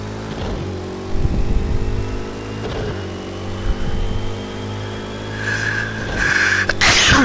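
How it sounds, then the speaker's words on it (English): A sneeze bursts out over the steady drone of a race car engine while driving the Mulsanne Straight in Project Cars 2's Le Mans 24 Hours, the broadband burst standing out loud and near late in the clip against the continuous engine hum. "Good place to sneeze on the Mulsanne Strait."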